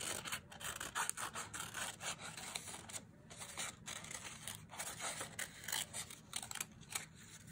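Scissors cut a basic paper mask shape, making faint repeated snipping and scraping strokes in a quiet room, with no speech.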